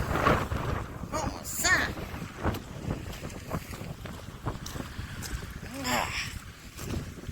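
Violent outdoor wind at 70 to 90 km/h roars and buffets the microphone in irregular gusts, with a voice exclaiming over the rumble.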